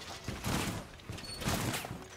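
Bursts of gunfire in the tactical shooter Rainbow Six, several rapid volleys at fairly close range filling the clip without pause, with no talk over them.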